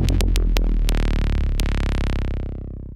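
Wavetable synth patch with the filter drive and fat controls turned up and the cutoff swept by a second LFO: a loud, gritty sustained tone opening with a few rhythmic stabs, then a long droning note fading at the end.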